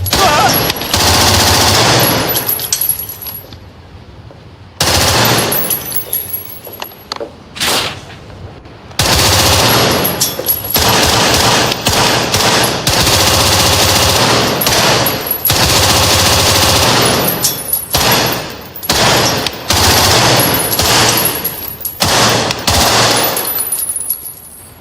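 Loud bursts of machine-gun fire in an action film scene, long rapid volleys broken by short pauses and repeated throughout, dominating the sound.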